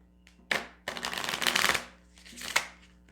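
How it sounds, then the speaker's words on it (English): A deck of oracle cards being shuffled by hand at close range, with short riffling bursts: a quick flick, a longer rustling run, then another brief snap. "These cards don't want to shuffle,"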